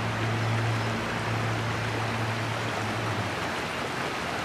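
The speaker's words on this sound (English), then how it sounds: "I just love this little creek." Small creek flowing at Brevard College, a steady broadband wash of running water heard close and continuous, with a low hum underneath and no talking.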